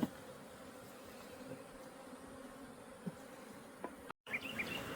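Honey bees swarming around newly installed hives, a dense continuous buzz filling the air with occasional nearer passes, steady and moderately loud outdoors, with a brief dropout near the end.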